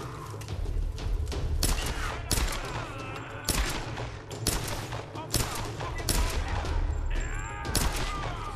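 Rapid bursts of gunfire from the Tomb Raider video game rattle through dense, overlapping shots and thuds, loud and continuous, with brief speech mixed in.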